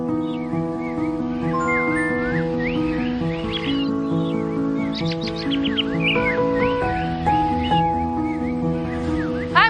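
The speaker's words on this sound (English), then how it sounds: "this place where bird enthusiasts bring these birds over there and then share with everybody to see" Caged songbirds sing together at a bird singing club, a dense overlapping chorus of whistles, trills and chirps from many birds at once, loud and continuous with no talk.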